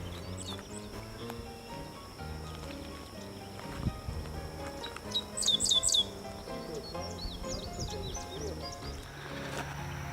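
A Dickcissel calls in an open field, giving short bursts of chirping notes that repeat a few times over a busy outdoor background, with someone talking nearby.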